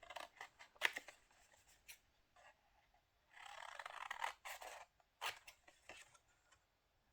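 Scissors snipping through Epson premium paper during a paper craft project, heard as quiet, close, sharp snips in short bursts with a longer continuous cut in the middle and no talking.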